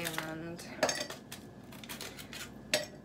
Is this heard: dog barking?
no